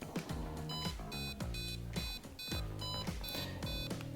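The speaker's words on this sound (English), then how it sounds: "this is automatically going to start with a default BPM of 140, and it's going to beep" A Roadie 3 tuner's built-in metronome at its default 140 BPM: rapid, regular electronic beeps with a bright tonal ring, repeating evenly and close up with no voices.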